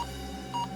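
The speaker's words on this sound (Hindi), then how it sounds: "रोमा के मोबाइल फोन पे एक कॉल आ रहा है" A faint electronic tone sounds once briefly, then again a moment later, over a steady low hum, like a mobile phone starting to ring with an incoming call in a TV crime drama.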